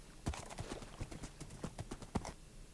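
Horse hooves clip-clop in the video game Minecraft, a quick irregular run of soft, close thuds and clicks at moderate loudness with no talking.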